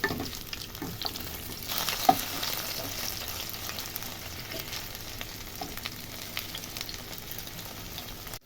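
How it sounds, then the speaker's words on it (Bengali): Thin-battered cauliflower pieces crackle in hot oil with a soft, even sizzle, punctuated by light scraping and clinks as they are turned over, and a brief knock near the start. "ফুলকপিগুলো কিন্তু বেশি লাল লাল করে ভাজবো না। দেখুন আমি উল্টে দিচ্ছি।"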